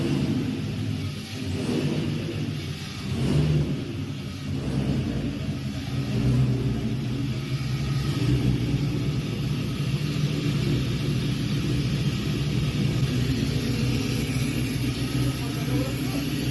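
An LS V8 swapped into a BMW E36 fires up and settles into a deep, rumbling idle, then revs in repeated blips that swell and fall, loud and close throughout with brief voices in the background.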